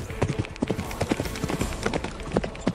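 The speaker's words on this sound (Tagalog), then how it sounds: "Lulan ng 2 kabayo" Two horses carrying riders walk along a road, their hooves clip-clopping in a steady, busy rhythm that carries through the whole stretch, near and fairly loud with no voices.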